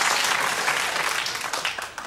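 A television talk-show studio audience claps in a lively, dense patter that starts strong and gradually thins and fades away over two seconds.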